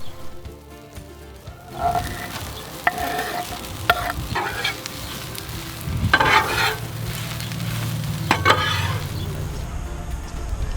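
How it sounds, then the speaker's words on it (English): Bacon pieces sizzle steadily on a Blackstone griddle alongside Brussels sprouts, with a few sharp scrapes and taps of a spatula and some low rumbling throughout. "we will add them back on the griddle with our Brussels sprouts. All right, we're ready to throw the bacon down."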